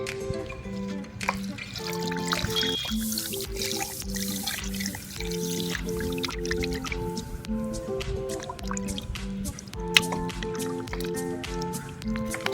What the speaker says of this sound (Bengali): মাছ ভালো করে ধুয়ে নিচ্ছি